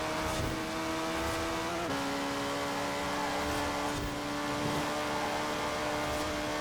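Race car engines held at a steady, high-pitched drone down a straight in Forza Horizon 4, with one tone shifting slightly as the cars run side by side, continuous and fairly loud.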